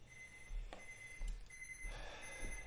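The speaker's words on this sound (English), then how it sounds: "And that beeping you hear is the timer." A kitchen timer beeps in repeated short electronic tones while coffee brews in a French press, faint against room noise with a few soft knocks and no talking.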